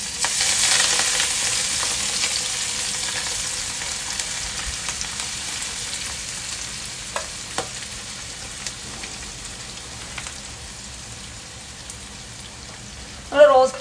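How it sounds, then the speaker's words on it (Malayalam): Mussels frying in hot coconut oil in a kadai give a steady, close hiss of sizzling with faint crackles, and a brief louder clatter comes near the end. "ഇനി ഇത് വെളിച്ചെണ്ണ ചൂടാകുമ്പോൾ നമുക്ക് ഇതിലോട്ട് കല്ലുമ്മക്കായ ഇട്ടിട്ട് വറുത്തെടുക്കാം"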